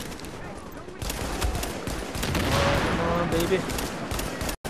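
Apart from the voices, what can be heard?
gunfire in the video game The Division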